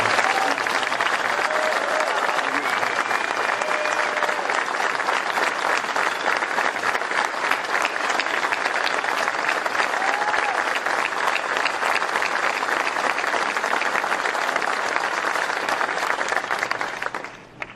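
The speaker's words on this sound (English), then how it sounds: "Would you join me in a round of applause for every man and woman here who's worn the uniform of the United States Army?" A large audience gives sustained, loud, even applause for US Army soldiers at a White House event, dense clapping continuing unbroken for the whole span before tapering at the end.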